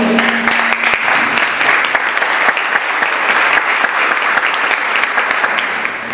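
A large audience at a business chamber launch ceremony breaks into sustained applause, a dense, even wash of many hands clapping, loud and continuous throughout.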